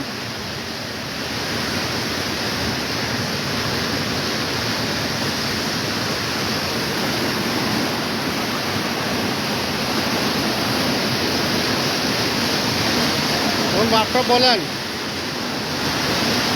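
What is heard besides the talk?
Kushiyara river water rushing through a sluice gate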